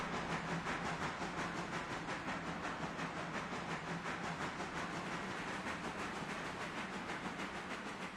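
A locomotive running light, with no cars attached, in the railway game Railroader, gives a steady rhythmic chuffing and rattling with constant hiss, loud and continuous throughout.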